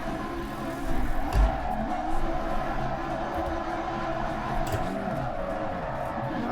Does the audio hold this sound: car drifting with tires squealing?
yes